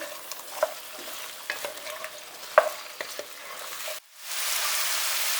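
Potato, carrot and onion sautéing together in a pan, a soft steady sizzle broken by scattered utensil scrapes and taps, with a louder hiss swelling up near the end.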